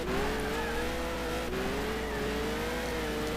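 Race car in Gran Turismo 6 running off the road into sand on the Nurburgring, a steady engine drone with a wavering pitch, loud and continuous without talk.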